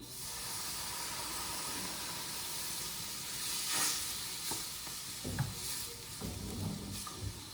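Butter and flour being stirred in a hot pan for a creamy chicken pasta sauce, a steady sizzle and hiss with soft scraping strokes and a few light clinks toward the end.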